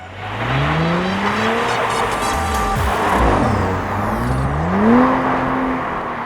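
An Audi four-wheel-drive car drifting sideways on ice, engine revving up and down in rising and falling sweeps over a constant roar of tyres scrabbling on the frozen surface, loud and close.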